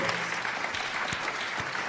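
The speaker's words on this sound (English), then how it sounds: "Now, keep the applause going" A live audience at the Contact in the Desert 2018 event applauds speakers taking the stage, a steady wash of crowd clapping with a few sharper individual claps standing out.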